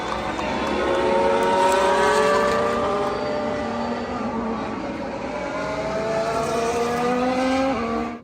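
Formula 1 race cars scream past the stands between turns 12 and 15 at Circuit of the Americas during the US Grand Prix, their loud, high-pitched engines sweeping up and down in pitch as several cars pass in close succession, with no talking.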